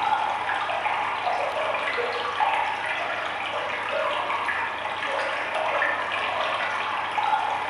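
Water runs steadily through a Song Dynasty drainage ditch carrying sewage and rain, a continuous even rushing that stays moderately loud throughout with no voices.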